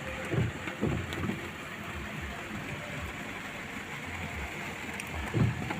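Steady, dense hiss of heavy rain pouring down in Zhanaozen, heard from inside a car, with a low rumbling drone underneath and a few soft thumps.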